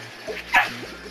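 Dog giving a couple of short, sharp barks or yips, close and fairly loud, over a steady low background hum, with no talk.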